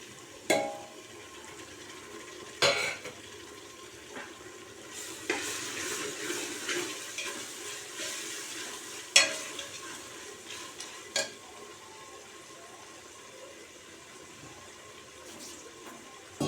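Mint and coriander frying in a pan with onions and tomatoes for chicken biryani make a soft, low sizzle, punctuated every few seconds by louder scraping stirs and clinks of the spoon.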